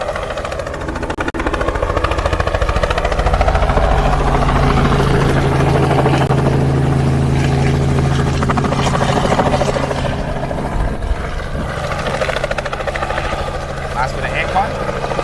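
A hovering helicopter's heavy rotor thrum and engine drone hold steady and loud for a long stretch during an elephant rescue in Balule Reserve, Greater Kruger National Park, with a voice occasionally heard beneath it.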